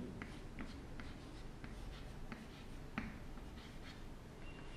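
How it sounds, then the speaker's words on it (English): Chalk or pen writing a short symbol on a board, quiet scratchy strokes in small bursts against a low background hum. "now I write you like this: helium,"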